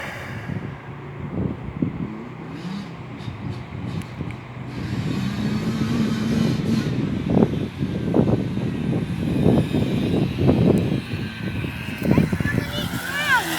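An 85cc dirt bike rides past on a track, its engine rising and buzzing louder as it nears and then falling away, heard over constant wind buffeting on the microphone.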